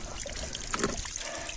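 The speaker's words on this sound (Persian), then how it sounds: "این چشمه که بهتون گفتم بچه ها اینجاست" Mountain spring water trickling out from under a rock, a steady close-up dribble and pour with a brief louder gush near the middle and no voices.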